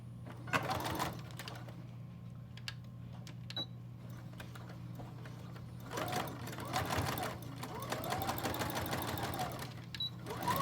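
A home sewing machine runs in short stitching bursts while sewing dart lines back and forth, its rapid needle rattle moderately close, with quiet pauses and a steady low hum underneath.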